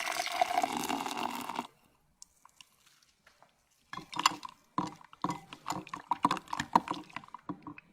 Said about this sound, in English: The first thing that I need is a bit of cornstarch, and I'll mix this with some boiling water.